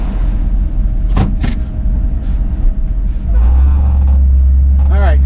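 A truck pulling a trailer starts up: a low idle and scattered knocks and clunks, then the engine catches into a loud, steady low rumble, with a brief whining tone at the end.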